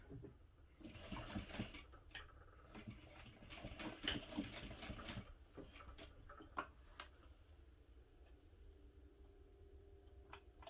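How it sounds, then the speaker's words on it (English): A sewing machine bastes the raw edges of a folded strap connector holding a D-ring, giving short bursts of quick, close ticking stitches separated by pauses and light handling clicks, quiet and with no talk. "I'm going to baste the raw edges together."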